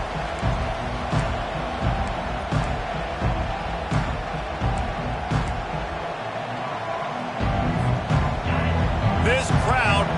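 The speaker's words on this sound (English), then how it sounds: "This crowd bringing an ear-splitting welcome to their visitors." A stadium crowd at a Michigan versus Washington college football game roars in a loud, continuous wash of cheering and noise, with a commentator talking over it throughout.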